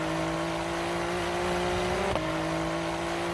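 Ferrari 3-litre 120-degree twin-turbo V6 race car engine at a Bathurst 12 Hour practice session, a sustained high-pitched howl with a sharp gear shift blip about two seconds in, steady and loud.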